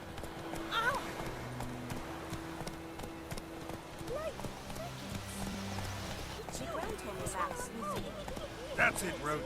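Hooves of Roach, the horse in The Witcher 3, clop in a steady trotting rhythm at close range, with a brief whinny and characters speaking over the hoofbeats throughout.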